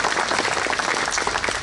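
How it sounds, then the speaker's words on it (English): An audience applauds Ollie Dillon at the Jadotville memorial, a dense, steady wash of many hands clapping together at close range, with no voices over it. "Please give Ollie another big round of applause."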